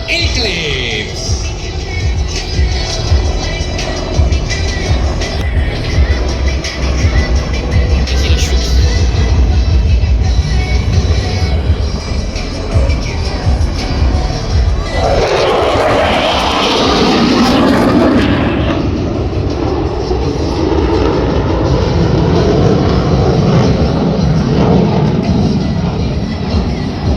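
Display jets at the Singapore Airshow roar past in a loud, continuous rush that swells and sweeps in pitch midway, with a commentator's voice running over much of it.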